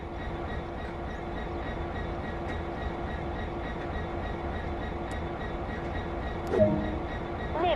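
In Train Sim World's Great Western Express, a train starts moving: a steady low rumble of engine and rolling wagons, with faint clicks and a brief squeal near the end.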